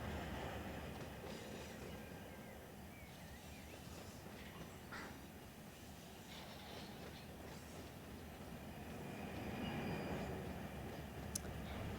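Train rumbling steadily in the Run8 Train Simulator game, a continuous loud rolling drone with faint clicks and a brief high squeal near the end, no talk over it.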